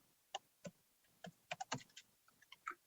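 Keys click on a small computer keyboard, a quiet, uneven run of separate taps as a place name is typed into a search bar.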